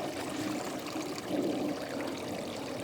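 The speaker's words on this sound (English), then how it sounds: "waterfall shots right now" Water from a waterfall pours in a steady, full rushing wash that holds an even level throughout, with a brief swell near the middle and no voices.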